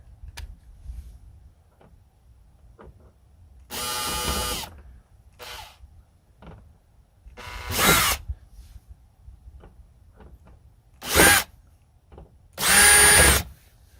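A Makita 18V LXT compact cordless drill whirs in short bursts, several separate loud high-pitched runs of a second or so each, with quiet clicks and handling noises between them.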